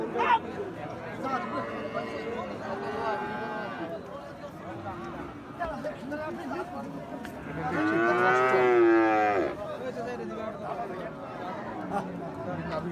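Australian and Friesian cross bulls low at a busy cattle market, with several drawn-out moos, the loudest swelling up near the middle, set against steady crowd chatter and nearby talk.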